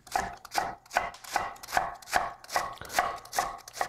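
Cabbage julienne-cut with a knife on a board, about ten brisk evenly spaced chops close up, each a crisp thud-and-crunch, with no speech.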